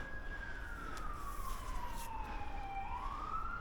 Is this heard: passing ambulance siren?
yes